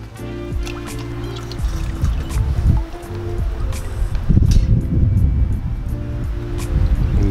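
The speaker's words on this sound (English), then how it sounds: "let's go ahead and rinse this beautiful one I found" Water pours and trickles over a freshly dug quartz crystal point at an Arkansas crystal dig, a steady close splashing rush with rustling and faint clinks, no talk.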